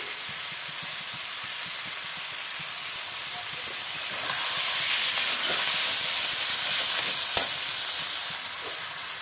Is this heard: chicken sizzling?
yes